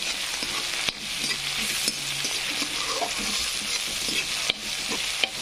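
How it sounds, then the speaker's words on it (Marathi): Spice masala sizzles steadily in a hot pan for a potato dish, with intermittent scraping and a few sharp clinks of a spoon stirring against the metal, no voices. "छान तळला गेला मसाला आता आपला"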